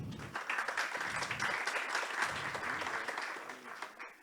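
An audience at a session on artificial intelligence and emerging technologies claps in a steady sustained burst, moderately quiet, swelling then fading toward the end.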